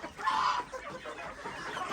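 Hens clucking in a farm chicken coop, several short close calls rising and falling over two seconds with no talk.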